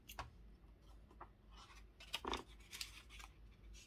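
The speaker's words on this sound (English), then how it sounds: "we are going to cut here and here, I think." Scissors cutting paper for a papercraft project: a few faint, close snips and soft crinkling rustles, spaced irregularly in a quiet room.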